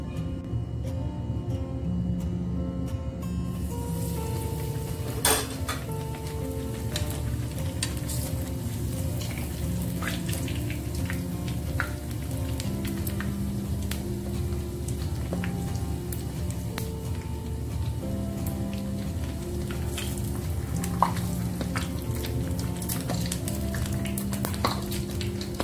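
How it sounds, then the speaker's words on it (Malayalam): Ice cream balls deep-frying in hot oil, a dense continuous sizzle and crackle with scattered sharp pops, loud and close, no voices. "നമുക്ക് എണ്ണയിലേക്ക് ഇട്ട് കൊടുക്കാം."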